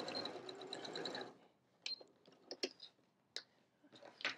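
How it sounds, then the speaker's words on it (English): A sewing machine backstitches on a zipper pouch, running in a short close whirring burst, then stopping, followed by scattered soft clicks and handling sounds. "I'm gonna do some back and forth stitching right here just to secure it"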